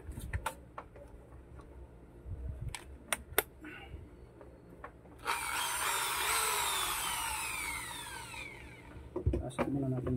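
A power drill drives a screw into wood while a wooden Tower of Hanoi is being built, a loud steady whine lasting about three seconds after scattered knocks and clicks, then more tapping.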